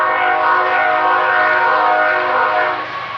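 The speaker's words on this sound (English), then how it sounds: "I love the sound of train engines with the train horns blowing" A train rolls past with its horn blowing in a loud, sustained, harmonic blast that fades slightly at the end.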